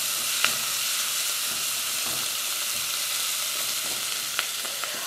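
A small chopped onion sizzles steadily in hot oil in a pot for chickpea soup, a close, continuous frying hiss with occasional stirring clicks and no talking.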